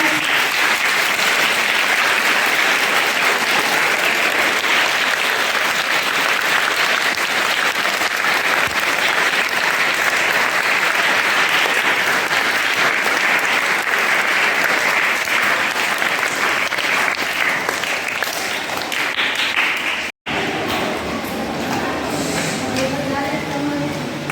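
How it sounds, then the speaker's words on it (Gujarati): Schoolchildren clapping at a Guru Purnima school program, a dense, loud, sustained round of applause that runs for about twenty seconds, breaks off abruptly, then resumes with voices mixed in. "બધા બાળકો એને જોરથી તાળીઓથી વધાવવા."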